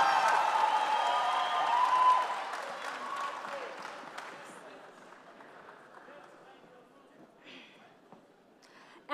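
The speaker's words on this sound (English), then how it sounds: "A big round of applause, ladies and gentlemen." An awards ceremony crowd claps and cheers loudly at first, with whoops over dense clapping, then the applause thins and fades over several seconds as an announcer's voice comes in.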